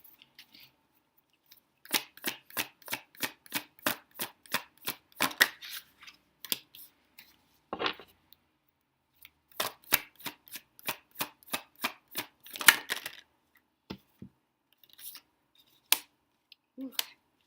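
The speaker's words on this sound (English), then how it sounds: "we're going to pull some cards and see what other messages come out" A deck of tarot cards being shuffled by hand, a quick run of crisp, regular snapping riffles in two bursts with short pauses, close and fairly quiet, no voices.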